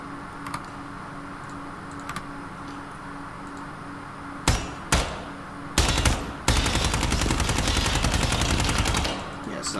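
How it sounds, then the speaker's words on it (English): Gunfire from an AK-74 rifle in the tactical shooter Ground Branch: a few separate sharp shots, then a sustained loud burst of rapid automatic fire lasting several seconds. "Let's use this AK-74 I set up before with night sort of capabilities with it."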